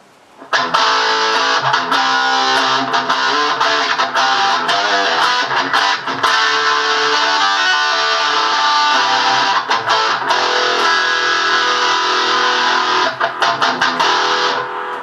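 Electric guitar through an H&K Redbox cabinet simulator played out of a PA, with a driven tone, plays continuously, loud and close, with strummed chords and picked notes and no talking.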